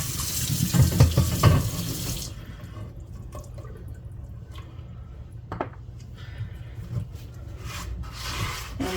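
A rusty cast iron pan is rinsed under a running tap, with water gushing and splashing loudly at first, then a quieter trickle with occasional clinks and drips.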